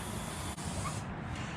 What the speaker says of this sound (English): I'm gonna spray it again